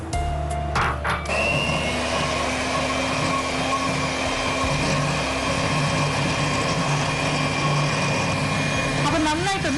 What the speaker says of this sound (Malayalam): 100 ഗ്രാം വെണ്ണ, ഉപ്പില്ലാത്ത വെണ്ണയും 1 കപ്പ് ഹീപ്ഡ് കുമിച്ചെടുത്ത് പൊടിച്ച പഞ്ചസാര ചേർത്ത് നന്നായിട്ട് അടിച്ച് പതപ്പിക്കാം